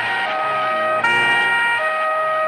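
Police siren wailing loudly and steadily, its tone stepping up and then down as it continues close by.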